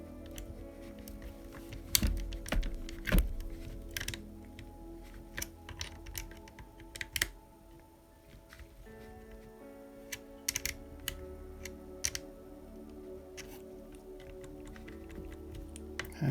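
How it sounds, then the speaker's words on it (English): A box wrench turns a fastener while a Tamiya BIGWIG 2025 model kit is assembled, fitting the dampers and bumper. Quiet, close, irregular clicks and light metallic taps come in scattered bursts, with a few sharper knocks. "And grab our box wrench."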